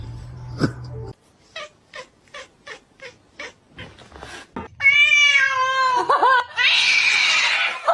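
A cat meows repeatedly in short evenly spaced calls, then lets out a long, loud, drawn-out yowl close by.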